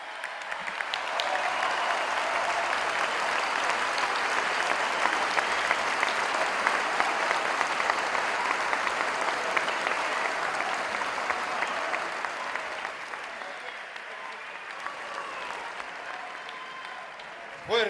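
Sustained audience applause at a political speech honoring Hipólito Yrigoyen, a dense, even roar of many hands clapping that holds steady for a long stretch and thins slightly near the end.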